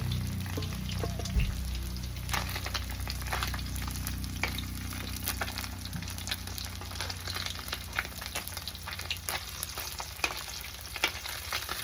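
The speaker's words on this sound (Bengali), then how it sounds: "লাল লাল করে মাছগুলো ভেজে নিয়েছি দেখেছো" Fish fry in hot oil in a pan, giving a close, steady crackling sizzle with sharp pops and spatters scattered throughout, with no talking.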